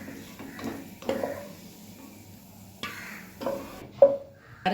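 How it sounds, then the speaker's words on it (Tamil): Cashews are stirred and roasted in a little ghee in a pan, with sporadic scraping and clinking of a spoon against the metal over a faint sizzle, close and fairly quiet. "நெய் விட்டு முந்திரி வந்து வறுத்து எடுத்துடணும்"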